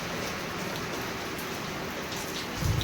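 Steady rain falls through a rural Gujarati evening as a broad, even hiss, moderate in strength, with a brief louder patter near the end and no voices.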